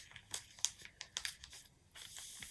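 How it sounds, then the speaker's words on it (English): Scissors snip through thick cable knit jersey fabric in a series of quiet, crisp crunching cuts, irregular in rhythm and close up. "I am going to cut this with scissors"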